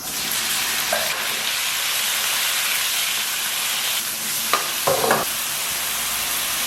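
Base oil heating in a wok in a home kitchen, giving a loud, steady close sizzle and hiss throughout, with a couple of brief clinks near the end.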